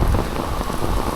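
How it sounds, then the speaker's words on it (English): Heavy rain pours down steadily in windy severe weather at Puerto del Carmen, Lanzarote, a loud, dense, continuous wash of drops hitting surfaces up close with no voices. "Look at that pouring rain."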